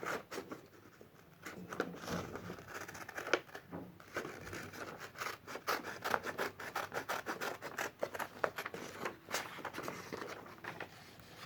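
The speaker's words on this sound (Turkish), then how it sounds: "Ben şöyle düz kesmek istiyorum." Scissors snip and crunch through paper in a string of sharp, close cuts with rustling and scraping between them, quiet and steady with no talking.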